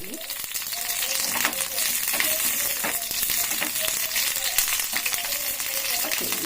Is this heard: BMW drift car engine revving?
no